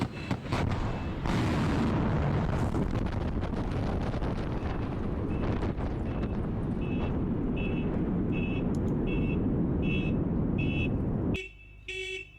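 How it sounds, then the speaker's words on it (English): An ICBM launch during a Russian strategic nuclear strike exercise: a sustained, loud, broadband roar that holds steady for about eleven seconds, with faint repeated beeps layered over it, then cuts off abruptly into quiet. "And there's an extended shot of the ICBM launching."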